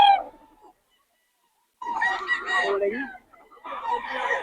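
Gamecock rooster at a fowl market in Bocaue crowing nearby, a loud drawn-out call, then a pause before another harsh crow, with a bit of voice at the very start.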